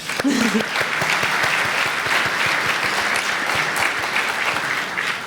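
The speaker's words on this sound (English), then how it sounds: "Please join me again in giving them a round of applause." A room full of people gives a round of applause for board members, clapping thick and sustained, with a brief voice or cheer rising over the clapping at the start.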